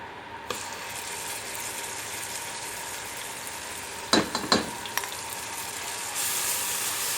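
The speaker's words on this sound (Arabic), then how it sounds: "السمنه بس تسخن عندي، وهنزل بالبصل بتاعي ده كده ايه كله" Finely chopped onion dropped into hot ghee, a steady frying sizzle with a brief burst of clattering stirring near the middle and a brighter hiss toward the end.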